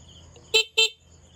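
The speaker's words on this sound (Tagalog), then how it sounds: "Pag magbubusina tayo." Car horn wired through a mini driving light setup gives two short quick honks, close and loud against a quiet background with faint insect chirping.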